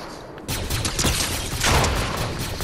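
Rapid video-game gunshots from a Star Wars-themed shooter burst loudly after a brief quiet start, then continue as a dense crackle of fire.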